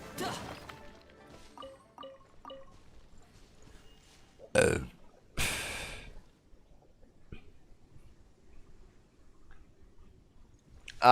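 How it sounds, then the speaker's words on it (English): A loud, close burp from a person gaming in Genshin Impact, following some quiet clicks and a short gulping sound, then fading to near silence before a final bump. "Sorry for that burp."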